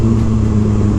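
McLaren 720S sports car engine caught in a one-second burst of loud, steady low mechanical drone, close and continuous with no speech.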